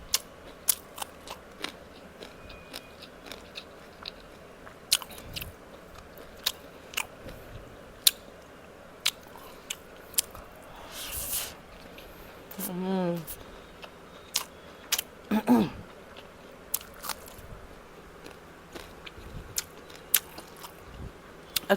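Someone eating a meal at home, with close crunching bites and steady chewing spread through the stretch, alongside occasional sharp clicks and a voice speaking now and then.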